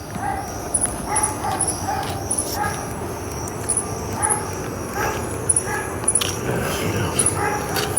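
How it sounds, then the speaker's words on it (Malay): Out in a forest at night, a dog gives repeated short whimpers and yelps, spaced irregularly over several seconds at moderate distance, against a steady noisy background. "Tak, sekarang ni itu anjing menangis ke apa?"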